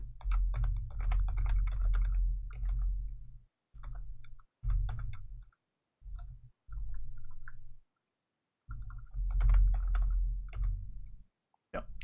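Fast bursts of computer keyboard typing while code is entered, close clicky keystrokes in several runs separated by short pauses, over a low hum, with no one talking.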